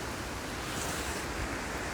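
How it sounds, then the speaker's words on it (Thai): Strong wind blows steadily and loudly across the microphone outdoors in a Swedish forest during mushroom picking, a constant broadband roar with no speech. "ลมแรงมากเลยวันนี้"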